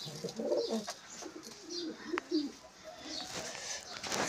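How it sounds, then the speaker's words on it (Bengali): Andara pigeons coo on a rooftop loft, soft repeated low coos overlapping at a moderate distance, with occasional brief chirps and a faint flutter against a quiet background. "আন্দারা পায়রা দেখো"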